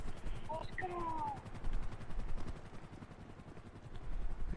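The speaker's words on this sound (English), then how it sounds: "chopper's up here" A helicopter in GTA Online during a casino heist, its rotor beating as a steady rapid thud throughout, mixed with bursts of gunfire, while a voice speaks briefly over the scene.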